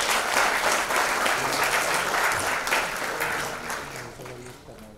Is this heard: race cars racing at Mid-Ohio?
no